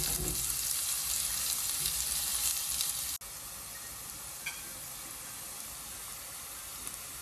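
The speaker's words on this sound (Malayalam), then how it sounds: "ഇതിപ്പോൾ അത്യാവശ്യം വഴറ്റുന്നുണ്ട്, കളറൊക്കെ മാറിയിട്ടുണ്ട് ഉള്ളിയുടെ." Shallots with salt sauté in a pan for fish molee, a steady close sizzle with a faint hiss and occasional stirring, moderately quiet with no talking.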